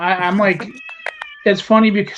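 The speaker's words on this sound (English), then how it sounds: "sorry about my cat screaming" A house cat screams with several sharp, high meows in the middle of a conversation, close by, set between stretches of someone talking.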